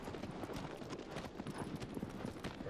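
A horse gallops in the video game Shadow of the Colossus, rapid rhythmic clip-clop hoofbeats running continuously at a faint, steady level with no talk.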